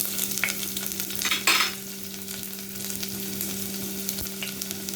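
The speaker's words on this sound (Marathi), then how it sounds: "आता मी त्यामध्ये कांदा घालून घेते।" Chopped onion dropped into hot oil in a pressure cooker, a sharp burst of sizzling at the start that settles into steady crackling frying, close up, with a faint constant hum underneath and no speech.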